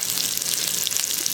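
Onions sizzling in a hot pan for peppers and onions with bison Italian sausage, a steady bright hiss with crackling pops, close and continuous with no voices.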